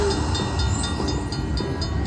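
A train-themed casino slot machine plays its train sound effect, a steady rumbling, clattering loop with faint whistle-like tones, filling the clip loudly amid the casino's background noise.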